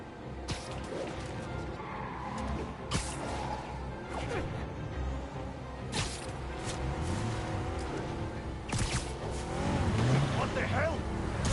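A car chase in the Spider-Man PS4 video game, with engine roar, tire squeal and skids under continuous game music and voices, louder near the end.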